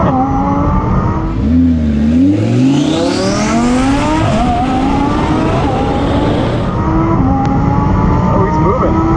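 A car launches hard down a quarter-mile drag strip, engine rising through rising harmonics and gear shifts, loud and close, with excited shouting over the run.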